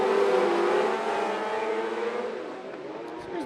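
600 mini sprint cars race wheel to wheel in a dirt-track heat race, with several high-pitched engines roaring loudly together and their pitch shifting as they sweep past.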